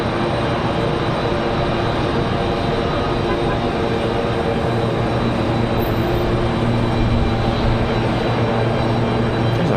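A Delta CRJ jet arrives, its engines a loud, constant whine-and-rumble over steady wind noise, with a low hum holding throughout and a voice talking faintly underneath.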